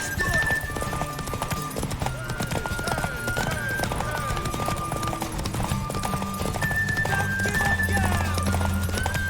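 Rhythmic clip-clop of horse hooves in The Witcher 3: Wild Hunt during a horse race, with background music and occasional voices layered over the steady trotting.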